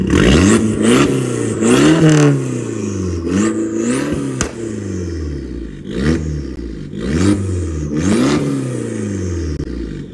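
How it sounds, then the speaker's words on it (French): A tuned Abarth engine revs hard several times with its exhaust valve opened by remote, loud and close, with a raspy open exhaust rising and falling between blips. "Petite télécommande, on va ouvrir l'échappement."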